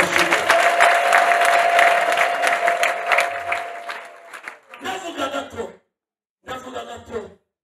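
A church congregation claps and cheers loudly at first, the sound dense and sustained, then fading into shorter bursts separated by silence, with some chuckling mixed in.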